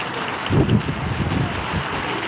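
Steady rain falls in a continuous broadband wash, with a slightly heavier swell around the half-second mark, and no voices.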